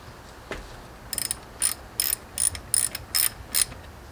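A ratchet with a 10mm socket turns bolts on a GY6 scooter engine during an NCY 171cc big bore kit install, giving about seven quick, close metallic clicking bursts in a steady rhythm with no talking.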